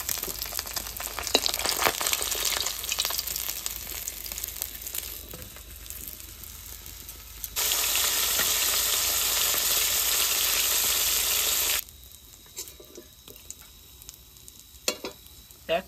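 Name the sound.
fish frying in oil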